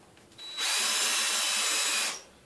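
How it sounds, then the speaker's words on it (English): A power drill whines steadily for about a second and a half as it bores into wood, starting and stopping abruptly. "So we apply the drill"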